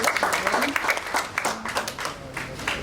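An audience at a Lagos State Safety Commission calendar competition applauds the Director General, a brisk, dense round of clapping that fills the whole stretch with uneven surges.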